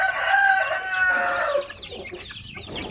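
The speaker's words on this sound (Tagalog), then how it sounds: "Binidyohan ko lang yung aking mga sisiw na available na pure basilan." Pure Basilan chicken chicks call in a loud, close burst of bright, tonal cries that fade into softer, scattered chirps after about a second and a half. No one talks.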